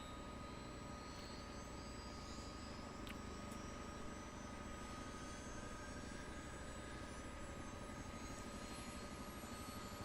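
A CH-47 Chinook helicopter engine starting up in Microsoft Flight Simulator, a steady whining turbine hum with a low droning rumble, even and continuous throughout with no talk.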